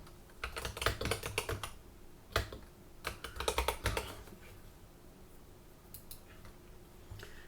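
Fingers type on a computer keyboard in quick bursts of clicky keystrokes, close and fairly quiet, with short pauses between runs of keys.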